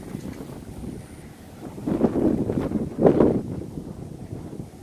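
Wind gusting at the Singapore Northshore seaside, a low rushing buffet against the microphone that swells into two stronger gusts before easing.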